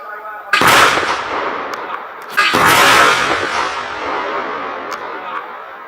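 Two loud, booming blasts at a War and Peace Revival military reenactment, each one ringing out and decaying over a couple of seconds, with a few fainter pops between them and voices in the background.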